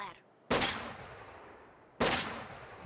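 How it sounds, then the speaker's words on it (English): A Soviet sniper in Company of Heroes 2 fires a flare from camouflage: two loud, sharp bangs about 1.5 seconds apart, each ringing out into a long decaying tail, with no speech. "Firing the flare makes a loud audio cue"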